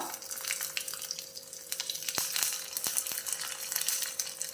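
Mustard seeds and urad dal crackle and sizzle in hot oil, a continuous busy hiss with scattered sharp pops and a few louder clicks, fairly close.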